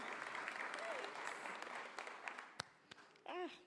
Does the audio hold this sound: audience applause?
yes